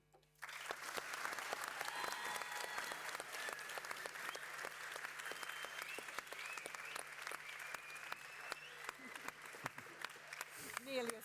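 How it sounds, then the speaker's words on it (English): Sustained audience applause fills a gym after a panel session at a youth event, dense and steady clapping from a large crowd with a few louder claps near the end. "Nearly a standing ovation"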